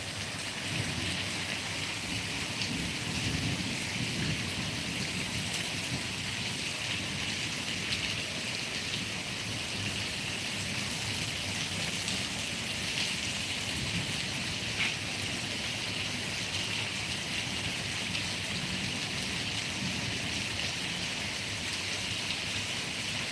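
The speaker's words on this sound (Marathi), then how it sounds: "संभाजीनगरमध्ये जोरदार मुसळधार पाऊस चालू आहे" Heavy torrential rain pours down in Sambhajinagar, a dense, steady roar of water with no letup and no voices, filling the whole stretch evenly.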